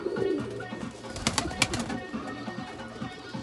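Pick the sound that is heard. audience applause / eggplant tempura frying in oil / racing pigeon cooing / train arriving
racing pigeon cooing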